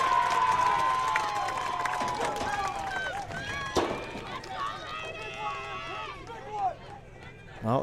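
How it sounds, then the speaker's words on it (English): Crowd at a women's rugby match between Guelph and Harlequins, cheering and calling out in bursts beneath continuous commentary, with one sharp swell of noise midway and another near the end. "the crowd is definitely excited to get behind the home team here"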